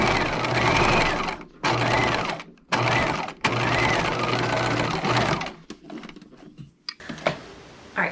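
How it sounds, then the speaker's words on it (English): A sewing machine stitches the side seam of a Stanwyck-pattern dress in several fast, whirring runs of about a second each, separated by short pauses, before a few shorter bursts and quiet handling. "I have sewn this entire side seam"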